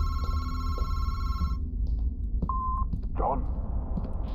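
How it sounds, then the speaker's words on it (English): An old-style telephone rings repeatedly at a steady pulsing rhythm inside the horror video game Madison, then cuts off as eerie ambient tones and a short electronic beep follow, with low rumbling game ambience throughout. "I'm not scared of a fucking ringing fucking phone"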